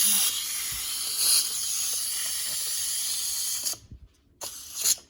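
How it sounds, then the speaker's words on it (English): An Instant Pot pressure cooker venting steam, a loud, steady close hiss that runs for several seconds, then cuts off abruptly, followed by a couple of brief sputtering bursts as the release finishes. "I'm going to release the steam on this."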